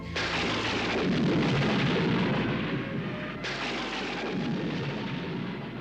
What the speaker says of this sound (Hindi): अचानक ये बिजली कैसे कड़की?